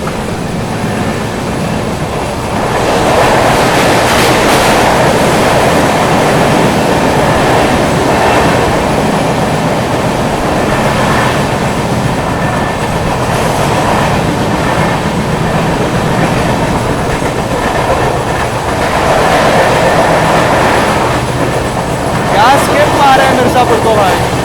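Magadh Express crossing on an Indian railway line, a loud continuous rumble and rattle of train wagons rushing past at close range for over twenty seconds, with faint wheel clatter throughout.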